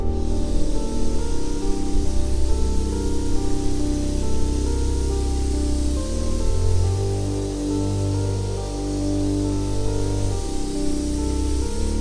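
Water spray rinses down a car wheel and tire, a loud, continuous close hiss of the jet with a low rumbling motor hum from the pressure washer underneath throughout.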